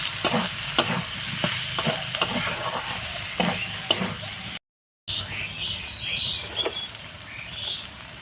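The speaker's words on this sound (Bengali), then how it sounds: "এইভাবে কষাতে কষাতে আলুটা কিন্তু সিদ্ধ হয়ে যাবে" Potatoes stir-fried in a pan for cauliflower kachori and ghugni, with steady sizzling and repeated sharp scrapes of a spatula across the pan, close and fairly loud, briefly cut by a gap of silence.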